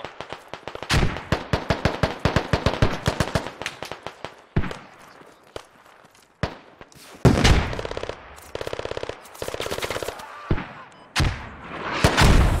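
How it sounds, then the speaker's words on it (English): Mortar and gunfire in the military shooter game Squad: rapid volleys of sharp gunshots, bursts of automatic fire and heavy thumping impacts, some close and loud, others quieter, with brief lulls between. "These mortars are danger close"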